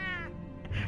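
A single drawn-out cat meow from the video game Batman: The Telltale Series, clear and close, with a bright harmonic whine that drops into a lower throaty tail.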